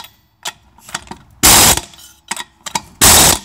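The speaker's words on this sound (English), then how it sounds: "So I ran these bolts down the way I always do until they stop turning after a couple of seconds." A Campbell Hausfeld impact gun runs down wheel bolts on an alloy wheel in two loud, short rattling bursts, each under half a second, separated by quieter clicks and handling knocks nearby.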